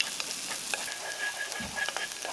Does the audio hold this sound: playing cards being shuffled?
no